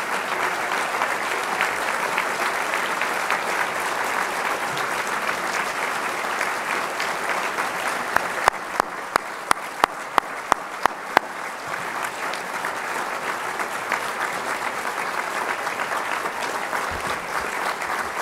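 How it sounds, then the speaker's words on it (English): Audience applause at a research forum for CHDI members, dense and sustained clapping from a large crowd lasting throughout, with a few sharp louder claps partway through. "give them a huge round of applause"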